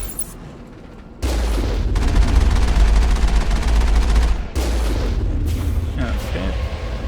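Heavy gunfire aimed at turrets in the video game Mass Effect bursts in loud and sustained after a quiet opening, with booming impacts, a brief pause, then more firing.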